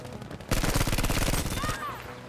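Battlefield V gunfire, a rapid dense burst of automatic shots lasting about a second, loud and close, followed by a whistling sweep as the firing tails off.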